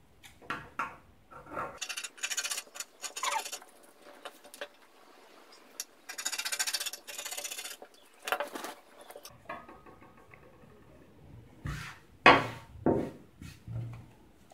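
Fabric cut with scissors for a peplum blouse. Quiet, close snips and slides come in short separate bursts with pauses between them, and light handling noises fill the gaps.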